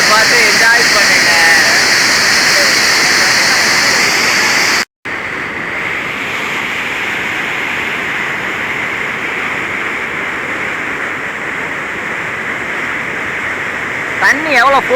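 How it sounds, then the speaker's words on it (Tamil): Forceful water from a waterfall near Valparai rushes as a loud, steady broadband roar filling the whole clip, broken by one brief dropout around five seconds. "தண்ணி எவ்வளோ ஃபோர்ஸாக போகுதுன்னு மட்டும் பாருங்க."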